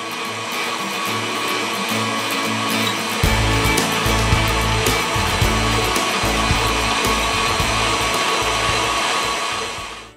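Electric hand mixer beating tres leches cupcake batter as it thickens, a steady loud motor whir running continuously throughout, deepening slightly after a few seconds.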